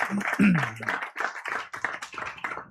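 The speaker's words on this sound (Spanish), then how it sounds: "Den un aplauso al Dios bendito de la gloria, hermano." A church congregation claps in praise during a service, with rapid, irregular hand claps mixed under a preacher's speaking voice.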